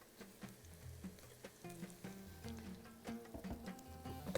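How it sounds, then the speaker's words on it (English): Garlic added to onions frying in a pan for a Bahraini dish, giving a soft, steady sizzle broken by repeated stirring scrapes and taps. "the onions is almost there. I'm going to add the garlic on top of it"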